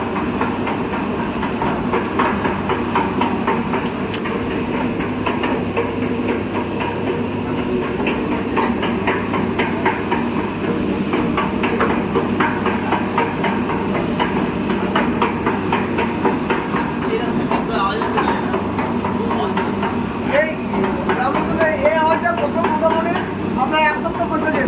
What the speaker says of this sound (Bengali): ওয়ার্কশপ ড্রাম রোস্টার মেশিন দেখুন কীরকম মুড়ি বার হচ্ছে সুপার কোয়ালিটি